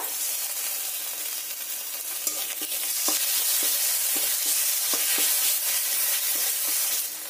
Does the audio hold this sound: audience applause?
no